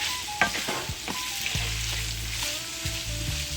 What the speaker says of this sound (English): I'm gonna let it fry up a little bit more